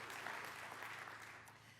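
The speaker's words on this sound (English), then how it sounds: "Let's give them a round of applause." Audience applause at an infrastructure summit plenary session, a faint, continuous patter of many hands heard at a distance, alone without talk.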